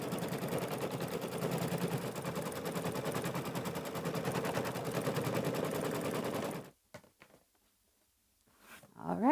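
A sewing machine stitches quilt fabric pieces together in a fast, steady mechanical rattle close by for several seconds, then stops abruptly, followed by a few faint handling clicks.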